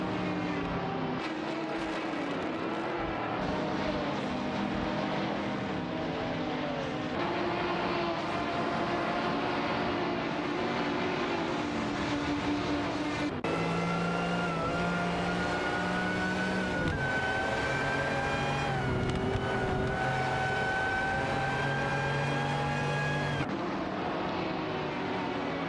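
Race car engines in an AI-driven racing video game, a Lamborghini Miura and a Shelby GT3 among them, droning loudly and continuously with rising and shifting pitch as they accelerate and change gear.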